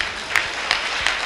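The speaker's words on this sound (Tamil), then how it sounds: "கைத்தட்டுங்க பார்க்கலாம்." A congregation claps hands during a Sunday church service, a steady wash of many palms with a few sharper accented beats recurring at regular intervals.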